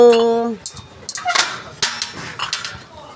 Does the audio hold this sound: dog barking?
yes